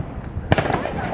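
A single Fourth of July firework bursts with a sharp pop, somewhat distant, over low background noise and voices.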